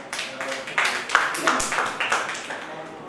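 A classroom of students claps for a classmate, a short burst of uneven, overlapping hand claps lasting a few seconds at close range.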